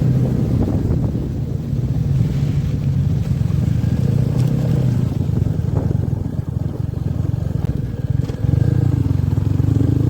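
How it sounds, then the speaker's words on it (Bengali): A motorcycle engine thumps steadily while riding along a closed mountain road in North Sikkim, a loud continuous low rumble with wind rushing over the microphone and no other traffic. "জাস্ট আমার বাইকের এই ডুকডুক শব্দ আর হাওয়ার সাউন্ড"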